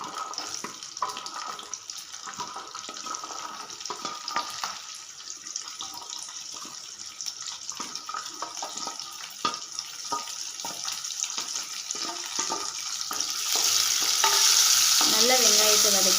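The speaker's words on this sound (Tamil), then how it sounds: "நல்லா வெங்காயத்தை வதக்கிக்கலாம்." Onions sautéing in hot oil while being stirred, a long steady sizzle with repeated scraping of the spoon, rising to a louder hiss near the end.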